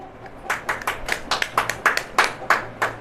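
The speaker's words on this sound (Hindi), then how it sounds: "ताली बजाइए।" An audience claps hands in a church service, a dozen or so fairly loud, roughly even claps, the crowd joining in loosely rather than in tight unison.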